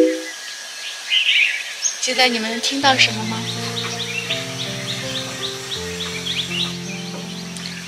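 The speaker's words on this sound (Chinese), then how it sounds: "只有鸟叫声" Small birds chirp and twitter around a mountain-view terrace in Thailand, the calls light and intermittent behind a steady tonal backdrop, with a person speaking briefly.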